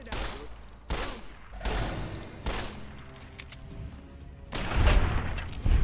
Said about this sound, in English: I shot that dude